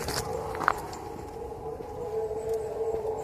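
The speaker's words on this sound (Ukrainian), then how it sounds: "лунає відбій повітряної тривоги" A steady, distant air raid all-clear siren wails in a sustained tone over quiet outdoor morning background noise in Kharkiv, with faint footsteps.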